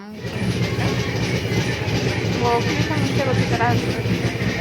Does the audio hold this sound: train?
yes